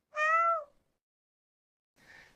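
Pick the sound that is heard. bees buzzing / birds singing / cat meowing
cat meowing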